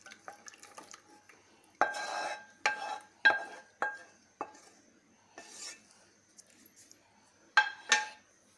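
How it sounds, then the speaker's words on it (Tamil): Cooled custard milk poured into a bowl while making custard pudding with fruits, heard as a few soft splashes and dripping pours with light clinks of a utensil against the dish, close and fairly quiet, no talk. "இப்போ இந்த கஸ்டர்ட் மில்க் வந்து நல்லா ஆறிடுச்சு. இது இந்த மாதிரி ஒரு பவுலில் ஊற்றிக்கோங்க."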